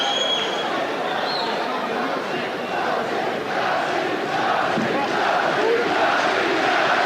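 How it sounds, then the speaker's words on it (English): A boxing crowd cheers and roars as Hamed enters for his bout with Manuel Calvo, a dense, sustained wall of voices that stays loud and steady throughout. "he gets a fantastic reception here from the crowd, who seem glad to see him back"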